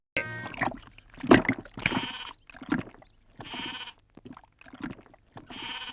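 A goat bleats repeatedly, loud and close, in a series of wavering calls separated by short pauses.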